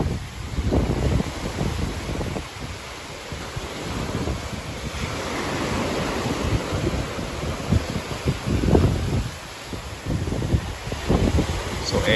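Strong wind buffets the microphone while rough sea waves surge and break at El Nido, Palawan, during stormy weather, a continuous loud roaring rumble with gusty swells and no speech.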